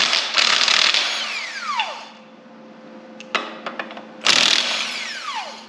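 A power tool works on the flywheel of an engine pulled from a 1966 Mustang, with loud bursts of whirring and impact-like rattling, a quieter gap filled with a few sharp clicks and knocks, then another burst, close by.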